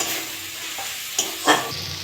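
Potatoes go into a hot pan of spiced chicken for chicken moglai, a constant sizzle of frying broken by a few clinks and scrapes of a stirring spoon against the pan, close by.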